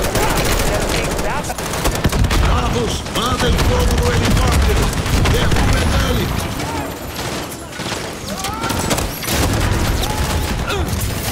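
Call of Duty Modern Warfare 3 firefight: loud, sustained bursts of automatic gunfire and sharp shots cracking almost nonstop, with booms and game chatter mixed in.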